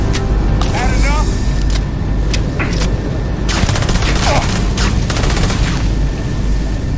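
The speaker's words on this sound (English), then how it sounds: "Can you stop shooting me so you won't be on fire?" Rapid bursts of enemy gunfire in the Starfield video game ring out loud and steady over a driving game soundtrack, with sharp shot transients scattered through the clip and a voice talking over the action.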